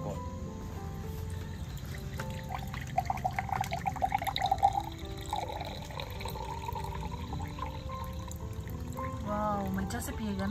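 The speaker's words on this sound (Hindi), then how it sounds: "तो इसका निकालता हूँ अभी juice, coconut juice, coconut water है" Coconut water trickles and pours out of a fresh coconut in a thin, gurgling stream lasting a few seconds, with room noise and a voice speaking around it.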